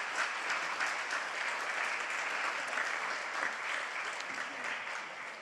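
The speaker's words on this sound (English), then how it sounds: "round of applause." An audience at the Prime Minister's Literary Awards applauds a winner, dense continuous clapping from a large crowd, loud and even throughout with no voices over it.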